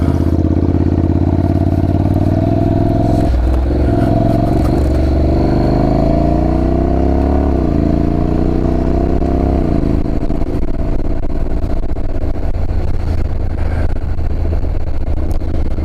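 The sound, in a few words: motorcycle riding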